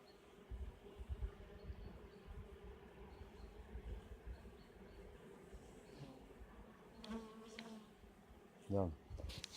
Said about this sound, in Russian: пчелы летают.